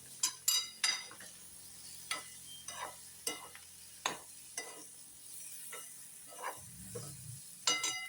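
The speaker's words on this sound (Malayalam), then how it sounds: "ഇനി ഇത് നന്നായിട്ടൊന്ന് ഇളക്കി അടച്ചു വെക്കാം" A spoon stirs a vegetable curry in a pot, making a string of sharp scrapes and clinks at an uneven rhythm over a faint, quiet sizzle.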